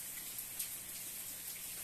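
Rain falls outside a home welding workshop, a faint, steady broadband hiss with scattered drop patter and no voices.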